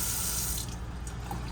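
Water runs steadily from an RV kitchen faucet with a collapsible neck in a 2022 Forest River Salem Hemisphere Hyper-Lyte travel trailer, a continuous close hiss that softens slightly partway through.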